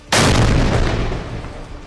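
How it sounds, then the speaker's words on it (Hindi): Heavy artillery, Sarang and Dhanush guns, fires during testing on a firing range: one sudden loud boom followed by a long rumbling decay, heard alone. "LPR रेंज में देश के सबसे ताकतवर तोप सारंग और धनुष की टेस्टिंग की जाती है।"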